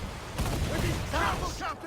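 Ship cannon volley in Assassin's Creed 4: Black Flag, a dense burst of booming fire rolling out over about a second amid shouting crew voices and battle noise.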